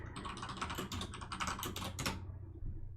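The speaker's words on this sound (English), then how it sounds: "I'll just type it out." Fingers type quickly on a computer keyboard in a dense, uneven patter of close key clicks that stops abruptly, leaving a low hum.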